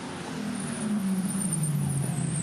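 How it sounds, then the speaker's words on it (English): Brakes of a V8 race ute squeal thinly in a braking zone at Symmons Plains during a 2016 V8 Ute Series race, a faint steady high whine riding over the loud, continuous drone of race engines. "You can even hear the brakes squealing a little bit, tweeting away down there."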